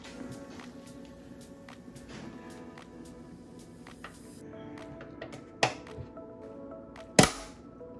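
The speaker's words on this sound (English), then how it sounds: "I'm gonna put this lid on." Lid of a slow cooker set down over a pot roast, with two sharp clacks a second or so apart against a quiet kitchen background.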